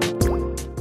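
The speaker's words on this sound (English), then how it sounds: "The WaterPro RO system dispenses RO water through the dispense valve at a rate of up to 1 liter per minute." A WaterPro RO laboratory water system releasing water through its dispense valve: a few close, wet drips and plops over a steady low hum.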